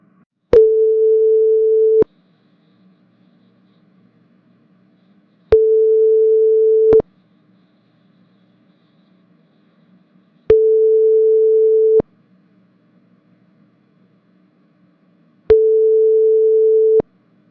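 Telephone busy signal during a call: four steady beeping bursts of a single mid-pitched tone, each about a second and a half long, separated by roughly three-second gaps of near silence with a faint low hum, loud and close.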